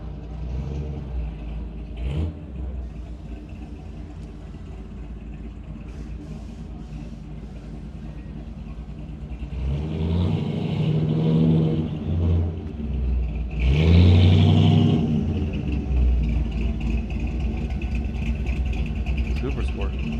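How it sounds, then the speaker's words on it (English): A 1961 Chevy Impala Super Sport at an outdoor classic car show idles with a low rumble, then revs twice in strong rising surges before settling back to a steady idle, with a voice speaking over it. "Got that beautiful 1961 Chevy Impala"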